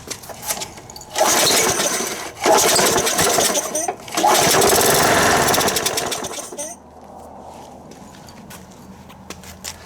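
Briggs & Stratton Quantum 6hp small engine, with three loud cranking or sputtering bursts that rise into a rough running roar before it drops to a quieter steady idle.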